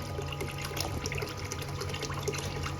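Water rushes steadily through a gold sluice box, a continuous close trickling and gushing flow with no pauses and no voices.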